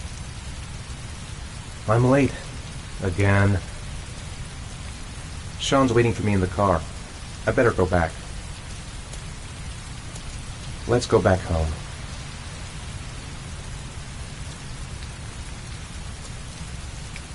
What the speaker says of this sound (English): Heavy rain. It's been the same for weeks.